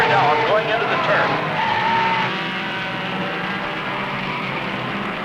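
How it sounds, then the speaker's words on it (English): Race cars at Sebring gear down into a turn, their engines whining and dropping in pitch with a brief tire squeal, then settling into a steady, loud mechanical roar. "Listen to the tremendous roar of the crowd as these boys gear down going into the turn"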